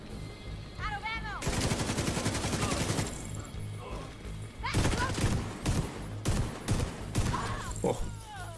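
Heavy gunfire in The Division 2 video game, with a shotgun in use, sounds as loud bursts and rapid volleys across the scene, with a short pause between them and voices talking briefly in the mix.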